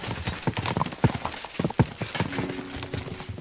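Horse hooves clip-clop in quick, uneven beats in the video game Kingdom Come: Deliverance 2, loud and close while a mount gets under way, with no talk over them.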